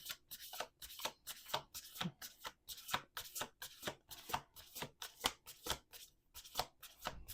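Cards being shuffled close up in quick repeated riffles, crisp rhythmic bursts with brief pauses between them, fairly quiet.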